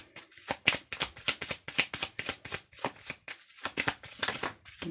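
Oracle cards shuffled by hand for a card reading, a quick run of crisp riffling flutters repeated in steady bursts, close and fairly quiet with no voice.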